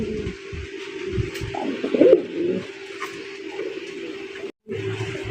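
Maxi racer pigeons at a pigeon seller's, cooing in low, throaty, rolling calls that carry on steadily and close by, with a brief gap near the end.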